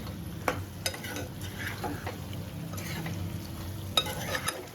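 Spicy chicken fries in a pan with steady sizzling while a utensil stirs and scrapes through it, sharp clinks and scrapes standing out above the continuous close hiss.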